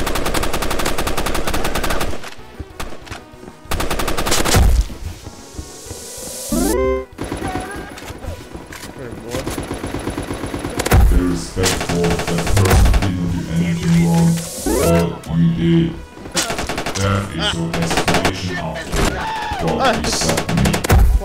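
Bursts of extremely rapid gunfire blast out loud and close in the shooter game Banana Shooter, the fire breaking into several long volleys and short gaps, with excited voices talking over the shooting.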